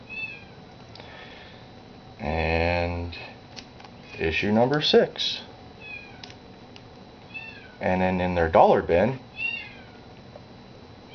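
An eight-week-old kitten locked in a room meows repeatedly in short, high, plaintive calls. The calls sit clearly over quiet background noise, and someone talks between them.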